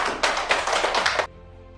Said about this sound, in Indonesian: Kita kasih aplaus dulu untuk semuanya.